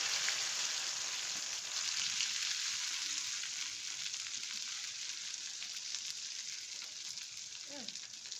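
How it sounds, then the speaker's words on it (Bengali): Okra tossed into hot oil in a wok, seasoned with panch phoron, fries in a steady, loud, continuous sizzle and crackle heard close up, with no voices. "তেল গরম হয়ে গেছে, তো এবার ভেন্ডি কটা ছাড়বো আমি।"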